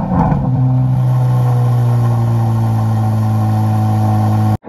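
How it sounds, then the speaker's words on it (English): A 2023 Chevrolet Corvette Z06 70th Anniversary edition with a quad exhaust produces a loud, close, steady droning burble with deep tones that sustains evenly, then cuts off abruptly at the end. "As you can tell by the exhaust, that is an absolutely beast of an engine"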